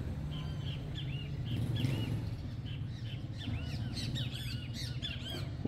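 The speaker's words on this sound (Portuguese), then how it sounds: "O canto dos pássaros ali, os bem-te-vi estão fazendo a festa, viu?" Great kiskadees call repeatedly outside a window overlooking a street, their bright, scratchy notes coming in quick overlapping bursts at moderate distance above a low background hum.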